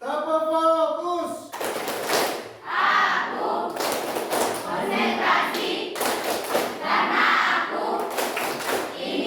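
Students in a classroom clap a rhythmic group pattern in repeated bursts of sharp hand claps, loud and close, with a teacher's voice speaking before and between the bursts.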